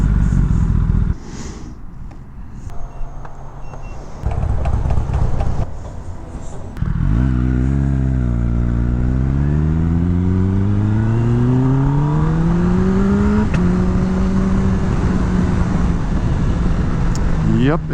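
A 2021 Kawasaki ZX-10R sport motorcycle accelerates hard on a town road, its engine pitch climbing steadily through the gears with a shift partway, loud and close under heavy wind rush; a voice talks briefly before the ride.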